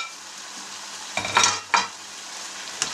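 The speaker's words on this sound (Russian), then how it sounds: "Еще раз все перемешиваем." Fried rice noodles with soy sauce and freshly added greens are tossed in a pan over a low, steady sizzle, with a few distinct scraping strokes and utensil knocks, and no speech.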